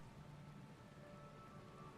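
Steady, close rain patter in the Final Fantasy XIV video game, a continuous even hiss of drops on surfaces with no voices over it.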